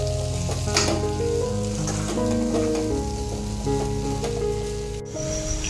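A frying potato mixture with turmeric, red chili powder and salt is stirred in a pan, a continuous close sizzle with a few soft scrapes, steady and fairly loud, with no voices.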